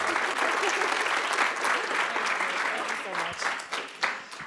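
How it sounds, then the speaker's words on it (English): An audience applauds a speaker at the close of a storytelling event, with steady clapping that fades out toward the end and a few voices mixed in. "So let's give Sarah a round of applause."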